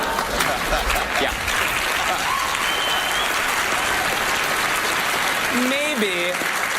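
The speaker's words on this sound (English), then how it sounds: "Maybe, just maybe you're applauding because you think I am Jesus." Studio audience applauding during a magic act on the Penn & Teller: Fool Us stage, a dense, steady wash of clapping and crowd noise filling the whole stretch, with a voice cutting in near the end.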